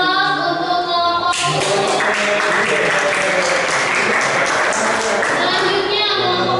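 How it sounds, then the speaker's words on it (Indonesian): Classroom applause for a student group in a high school biology class, a dense burst of many hands clapping that rises after a voice and continues under chatter. "kita kasih aplaus untuk kelompok"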